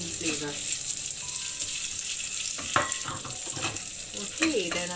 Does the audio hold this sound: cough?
no